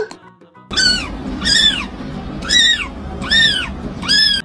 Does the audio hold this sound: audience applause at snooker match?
no